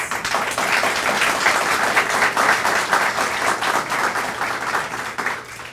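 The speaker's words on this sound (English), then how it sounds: "can we give them a round of applause?" Audience applause at a talk organized by a spiritist federation, a loud, dense and even wash of many people clapping that holds steady for several seconds before easing slightly at the end.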